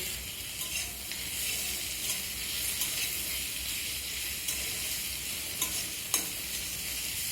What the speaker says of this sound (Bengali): এখন আমি কেটে রাখা আলু আর টমেটো দিয়ে নেড়েচেড়ে ভেজে নেব।